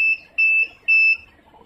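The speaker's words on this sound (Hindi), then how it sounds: "जहाँ पे बजर आवाज़ देगी ना उधर आपने इसको छोड़ देना है।" A UPS inverter's low-battery buzzer being set on a home unit sounds three clear electronic beeps in an even rhythm, each about a quarter second long. They are close and loud, with no talk over them.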